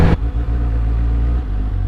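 A 2017 Suzuki GSX-S750 motorcycle engine while riding, a loud, steady low droning hum close to the rider, holding an even pitch with slight wind noise and no talking.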